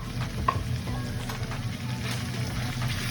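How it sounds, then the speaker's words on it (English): Chopped garlic and ginger frying in a pan with jerk seasoning for oxtails, giving a steady close sizzle with stirring scrapes and a small clink near the start, and no talk. "fresh chopped ginger in there. I mean, garlic."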